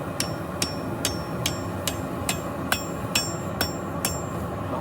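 Red-hot steel hammered on an anvil: about eleven sharp, ringing metallic strikes at an even rhythm, close and clear over a steady background roar.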